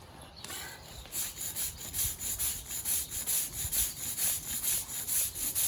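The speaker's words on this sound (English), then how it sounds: "So I'm going to do a little scrubbing." A stiff brush scrubs an oil stain on a cement driveway in quick, regular back-and-forth strokes, a rasping rhythm of roughly two strokes per second that is close and fairly loud, with no talking.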